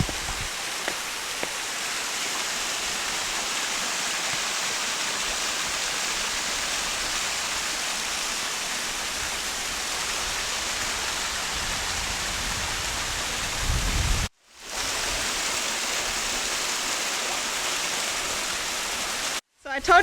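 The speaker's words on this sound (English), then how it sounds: "I can see the waterfall up ahead." A waterfall seen ahead at the end of a hike in South Australia gives a steady, loud broadband rush that fills the whole clip, with two brief dropouts near the end.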